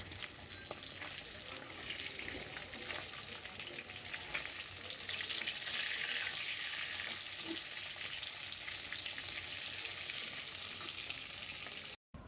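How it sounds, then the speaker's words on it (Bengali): Hilsa fish sizzles steadily in hot oil, a dense continuous frying hiss that holds at an even level from start to finish with no one talking, cutting off abruptly just at the end. "আর এখানে ইলিশ মাছটা ভেজে নিচ্ছি।"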